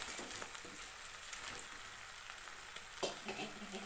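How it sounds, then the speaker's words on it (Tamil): Fried egg pieces go into a hot pan for egg chilli, setting off a continuous close sizzle with stirring scrapes and a sharper burst near the end. "இந்த பொரிச்சு எடுத்து வச்சுருந்த முட்டையை சேர்த்துக்கலாம்."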